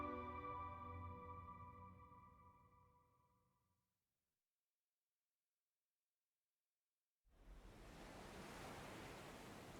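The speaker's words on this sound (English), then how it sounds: "And now the waves once again." Ocean waves in Death Stranding rise as a broad steady wash of surf after a stretch of silence, following fading music; loud, continuous and alone.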